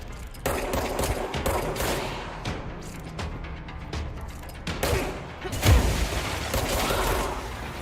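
Gunfire in the video game Control, with bursts of rapid automatic shots and heavy thudding impacts layered with mechanical clatter, loud and close, then a brief lull before a louder, punchier volley.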